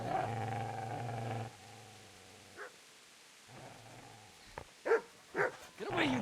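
A dog in Kingdom Come: Deliverance growls low and steadily at the player, then lets out several sharp, close barks.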